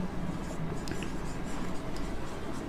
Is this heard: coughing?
no